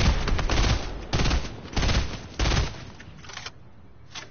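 Gunfire in the Fortnite game comes in four loud bursts of rapid shots, each about half a second long with short gaps, followed by fainter scattered shots.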